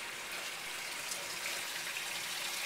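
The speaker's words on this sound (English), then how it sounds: "Pump water into it." Water pumped into a brine tank for beet juice anti-icing solution, a steady continuous gushing rush with no pauses, fairly close and alone.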